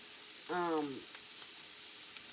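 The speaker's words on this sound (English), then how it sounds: "So yeah, we're going to cook this shrimp up." Shrimp fry in coconut oil, giving a steady, soft sizzling hiss throughout, with a short voice briefly heard over it.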